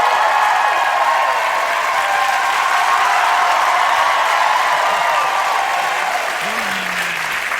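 A television studio audience claps and cheers in dense, sustained applause, loud and steady for several seconds with scattered whoops inside it.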